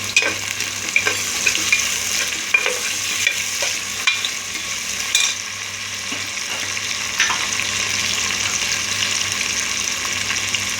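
Whole spices, cinnamon, cloves and cardamom, sizzle steadily in hot oil, a close, continuous frying hiss with light stirring clicks and scrapes scattered throughout, no voices.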